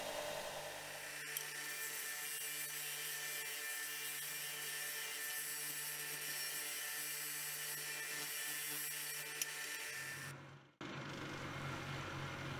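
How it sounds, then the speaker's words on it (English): Metal plier inserts pressed against a powered sanding machine to flatten them, giving a steady, close grinding whir with a constant motor drone. A brief cutout and restart comes near the end, and no one speaks. "The inserts also need to be sanded flat."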